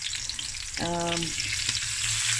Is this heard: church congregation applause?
no